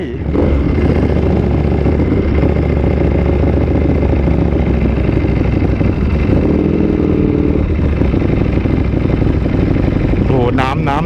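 Ducati V4 race motorcycle with a loud SC-Project exhaust, engine roaring close and constant throughout, with a brief rise in pitch near the end and a voice talking over it.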